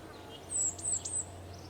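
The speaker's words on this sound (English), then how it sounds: "I hear the birds." Birds chirping in Kerbal Space Program, a few thin, high tweets close together over a steady low ambient hum, fairly faint and lasting under a second.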